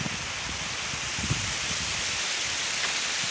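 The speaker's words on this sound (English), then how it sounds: "if you like the sound of water, this area has it" Running water outdoors near a hillside hotel in Mexico, a constant broadband rush like a stream or waterfall, steady and fairly close, with faint low thumps underneath and no talking.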